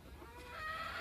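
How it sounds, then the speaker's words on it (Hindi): Hen clucking close by as it wanders into a coop-like space to lay an egg, a short burst of throaty calls rising in loudness with no voices over it. "यार देखो मुर्गी हमारी यहाँ पर घुस गई है"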